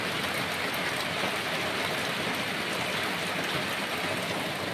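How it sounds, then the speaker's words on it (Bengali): Heavy rain pouring down at night, heard as a dense, even hiss of falling water that stays steady and moderately loud throughout with no voices. "দেখো এখান থেকে বৃষ্টি হচ্ছে।"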